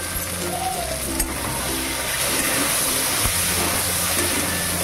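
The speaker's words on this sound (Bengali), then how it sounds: "মশলাটাকে ভালো করে একটু কষাবো, তার জন্য একটুখানি জল দেবো" Spices for ghugni frying in a pan with a splash of water, a continuous hissing sizzle with faint steady hum and a couple of soft clinks, close and even throughout.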